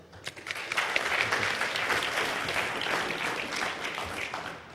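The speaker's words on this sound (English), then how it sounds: "give him a big round of applause" Conference audience applauding a speaker at Toorcon 2007, a hacking and security event: dense, steady clapping from a crowd that starts at once and holds for several seconds, fairly close and filling the room.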